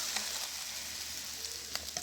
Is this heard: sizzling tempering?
yes